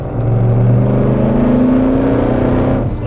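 A BMW E39 or E60 M5 exhaust revs close up, a loud, steady engine drone rising slightly in pitch, then easing off near the end with no talk over it.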